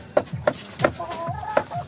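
Backyard Talisayin Gold and Talisayin Gray breeding chickens clucking close by, a series of short sharp clucks in irregular rhythm with a brief drawn-out call in the middle.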